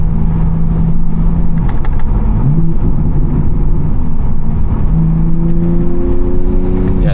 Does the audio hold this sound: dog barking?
no